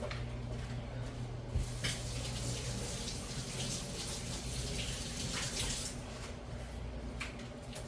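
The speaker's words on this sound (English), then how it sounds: "Let me go rinse my hands." Tap water runs steadily into a sink as hands are rinsed while cooking BBQ ribs, potato salad and deviled eggs indoors, a soft continuous splash with brief changes as the hands move under the stream.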